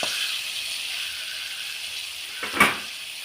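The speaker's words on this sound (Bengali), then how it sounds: "দেখতেই পাচ্ছেন বরবটিগুলো ভাজা হয়ে এসছে" Long beans frying in oil seasoned with salt and a little turmeric give a faint, steady sizzle, with a brief louder crackle near the end.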